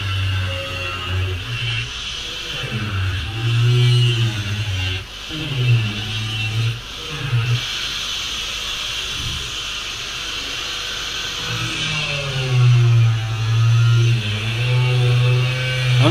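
A power tool cuts a bathtub cover in half, its loud motor whining and revving in several bursts, dipping between cuts and bogging under load.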